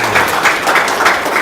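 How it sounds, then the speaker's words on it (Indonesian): Brief, loud burst of audience clapping in a studio setting, close and continuous with slight rhythmic pulses. "Tepuk tangan dulu dong."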